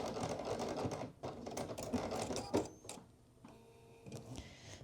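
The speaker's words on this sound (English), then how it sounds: "we are going to backstitch again." A sewing machine backstitches a hoodie seam at a short stitch length, giving a quiet, fast, rattling run of stitches for a few seconds that then tapers into faint clicks.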